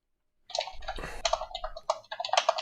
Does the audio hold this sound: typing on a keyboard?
yes